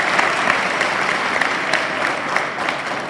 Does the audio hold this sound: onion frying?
no